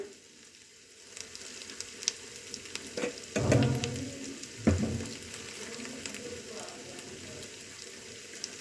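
Nutri soya chunks frying with garam masala, cumin powder and chili in a pan, a soft steady sizzle with occasional crackles and two louder scraping stirs partway through.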